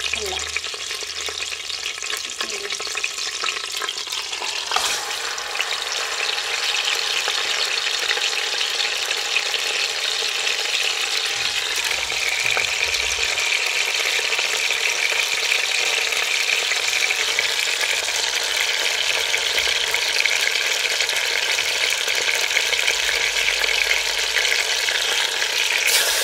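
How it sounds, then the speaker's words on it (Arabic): Meat browning in a cast-iron pot in hot olive oil and butter, a steady loud sizzle and crackle running unbroken the whole time with a little stirring, and no one speaking. "غادي نجيب دابا اللحم ديالي وغادي نبدا نحطو في الكوكوط يتحلى"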